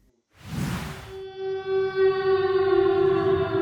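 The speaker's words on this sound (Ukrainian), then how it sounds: "Відбій повітряної тривоги." A civil defense siren in Kropyvnytskyi, Ukraine sounds after a short rustle, holding one long steady wailing tone, loud and unbroken, the air raid all-clear signal.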